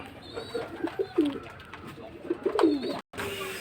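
A pigeon cooing nearby, two soft throaty coo phrases over light background noise, with a brief dropout near the end.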